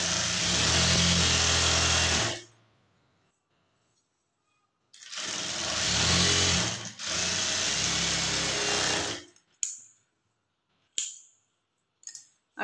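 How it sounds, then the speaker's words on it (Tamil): A sewing machine top-stitches the lining of a blouse in two long, loud, steady runs separated by a pause, followed by several short stop-start bursts of stitching. "லைனிங் கிளாத்தை மட்டும் திருப்பிட்டு மேலே வந்து ஒரு டாப் ஸ்டிச் லைனிங் மேலே படுற மாதிரி போட்டுக்குங்க"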